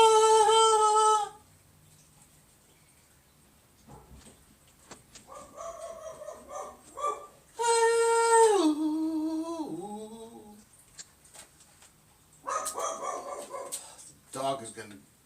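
A dog barks in short, loud bursts at intervals, with bird calls or clucking in between and a person speaking nearby.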